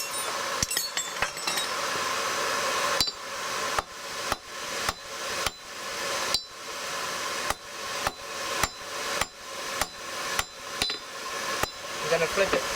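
A hammer strikes hot steel on an anvil while J hooks are forged: about a dozen sharp, ringing blows land close by in a steady, evenly spaced rhythm after a brief scrape at the start.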